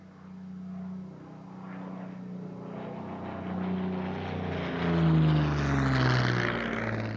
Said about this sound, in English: The aircraft we see here is Paul Beauchamp's Yak-9 N82112